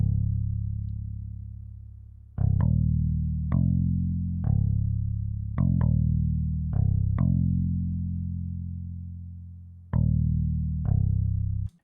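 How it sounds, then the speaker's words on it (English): Bass line from an FL Studio mix following the chord notes: deep sustained synth-like tones struck every second or so, each note decaying slowly, played alone without talk. "we have the bass, attempted bass, and it's just kind of following those notes as well"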